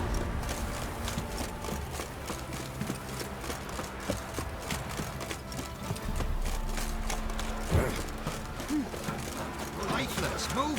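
In The Witcher 3, horse hooves clip-clop in a steady walking rhythm under ambient game sound, with characters talking over it.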